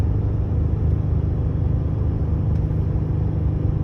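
A 2018 Ford F-150 towing 10,000 lbs up a 6% grade makes a steady, heavy low drone of engine and road rumble that holds constant throughout.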